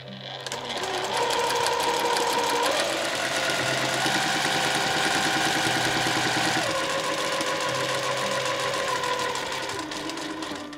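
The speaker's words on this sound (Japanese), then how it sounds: "同じようにして縫っていきます。" A sewing machine stitches fabric for a gathered camisole dress, its motor and needle giving a steady, close, buzzing chatter for about ten seconds that shifts slightly in pitch before slowing at the end.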